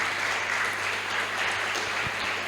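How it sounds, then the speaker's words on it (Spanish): A church congregation applauds during a sermon, a steady, fairly distant crowd of clapping with a low hum underneath and no pauses. "Den un aplauso a Dios."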